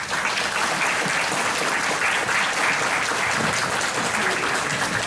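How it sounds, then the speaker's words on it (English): Audience applause at a community migration know-your-rights forum in El Monte, a steady, full wash of clapping that holds evenly throughout. "Let's give them a round of applause."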